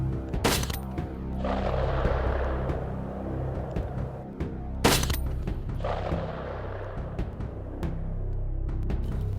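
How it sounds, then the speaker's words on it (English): Rifles fire at hogs during a night hunt with thermal scopes: a loud, sharp blast, then a second blast about four seconds later. Each crack is followed by a long rolling rumble that fades slowly, and nobody speaks. "that was as simultaneous as you could get 2 bullets going down range at the exact same time"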